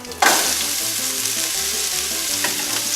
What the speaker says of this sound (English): we're going to saute these together